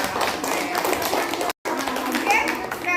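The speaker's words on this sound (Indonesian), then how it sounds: "Tepuk tangan." Children clapping hands together in a classroom, a fairly close burst of mixed claps and taps with young voices chattering underneath and a brief cut in the middle.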